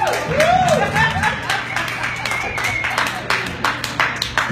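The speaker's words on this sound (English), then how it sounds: "Y'all clapping too low." Scattered audience clapping at an open mic in a nightclub, moderately loud and irregular, with a steady low hum underneath and some crowd noise.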